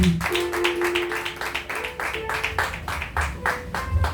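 A church congregation at a French-language worship service claps together in a steady rhythmic beat to acclaim Jesus, close and lively, with voices and a sustained organ-like tone beneath the clapping.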